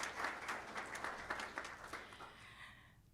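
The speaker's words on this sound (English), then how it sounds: "Please give them a round of applause." Audience applause at a nursing pinning ceremony at Hodges University, a soft, distant patter of many hands clapping steadily before tapering off after about three seconds.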